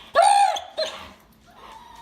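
A pitbull, anxious and aggressive, gives two loud, close barks, the first drawn out and high-pitched, the second shorter, then a faint whine trails off.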